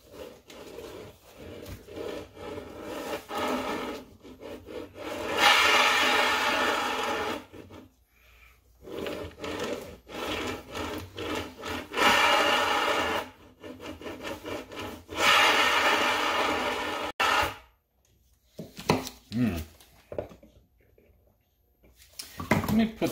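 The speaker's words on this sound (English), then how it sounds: "It's just that bearing rolling" Bearing in a Dyson Ball MultiFloor vacuum, off its housing for maintenance, rolling with a rubbing, grinding texture in several bursts separated by gaps, with brief speech between.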